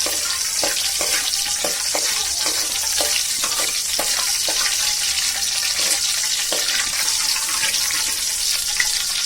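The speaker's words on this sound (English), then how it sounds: "a few bits of cinnamon, and I will start mixing to let it get fried" Spices and cinnamon pieces sizzle in hot oil while being stirred for mutton cutlets, a dense continuous fry with scattered scraping and clinking of a spoon against the pan.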